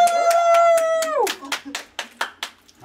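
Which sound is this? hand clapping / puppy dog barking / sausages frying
hand clapping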